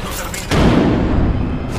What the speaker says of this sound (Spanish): ¡Lanzando granada!